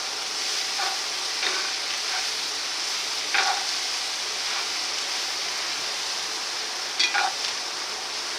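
Corn and onions fry on a grill in a steady, bright sizzle, with a few brief scrapes and clicks of a utensil and no talking.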